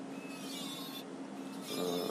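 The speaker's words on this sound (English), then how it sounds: "I just used the woodworking sander to grind each end so it matches perfectly the piece that it was going to be welded to" A woodworking sander grinding the ends of metal pieces for welding during a 1966 Triumph Spitfire MK2 restoration, giving a continuous close abrasive rasp that swells slightly louder near the end.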